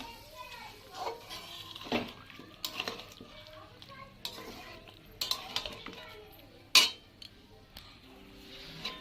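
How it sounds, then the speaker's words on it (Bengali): Mutton being stirred and fried with watery spice paste in a pan for mutton pulao, heard as scattered scraping clinks of a utensil against the pan over a soft sizzle, with speech in between. "এবার আমি এটা ভালোভাবে কষিয়ে নেব"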